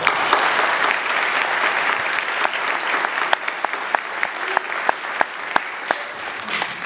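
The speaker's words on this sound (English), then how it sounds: "Please join me in a round of applause honoring these academic leaders" A large crowd at a university commencement applauds steadily, a dense wash of clapping with a few sharper individual claps standing out toward the end.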